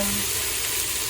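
Spices and vegetables frying in a pan give a steady, close sizzle that continues evenly through a short stretch, with no talking.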